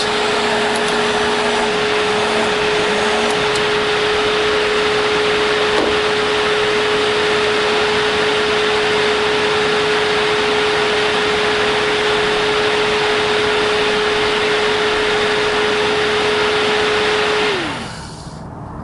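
Car radiator cooling fan spinning after a wiring repair from rodent damage, a loud, steady whir with a constant hum that runs unbroken, then winds down at the end.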